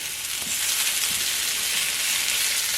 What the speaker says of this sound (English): cook the noodles a little bit more on one side